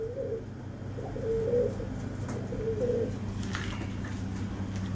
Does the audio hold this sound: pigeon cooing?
yes